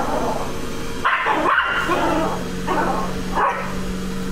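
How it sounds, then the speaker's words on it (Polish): A small dog barks at a Roborock robot vacuum indoors, several close yapping barks in short bursts with a brief whimper, someone speaking between them. "Dlaczego na niego szczekasz?"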